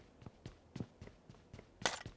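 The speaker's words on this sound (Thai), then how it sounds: "นี่เสียงเดินตอนนี้นะครับ" Soft, evenly spaced footsteps, about eight quick steps in a steady rhythm, faint and close, with one sharper scuffing step near the end.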